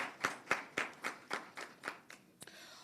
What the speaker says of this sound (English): So another round of applause to the ministry team.